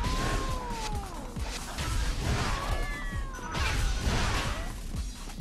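Cats in the Tokyo Jungle video game meow and caterwaul repeatedly while attacking, with thuds and whacks of the fight scattered among the drawn-out cries.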